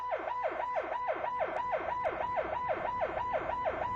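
A wailing siren cycles rapidly up and down in a steady, repeating pattern, loud and continuous like a police car passing close by.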